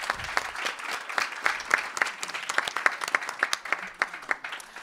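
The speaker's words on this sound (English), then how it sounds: "Round of applause." An audience applauds at the close of a lecture, with scattered, distinct claps from a modest crowd in a fairly steady rhythm, fairly close and without talk.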